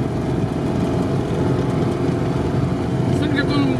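An off-road vehicle's engine revs hard through deep off-road terrain, making a loud, continuous, rough drone that stays close for the whole stretch without letting up.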